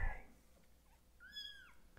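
Kitten giving a single thin, high meow up close, quiet and brief against a soft background after a short bump at the start.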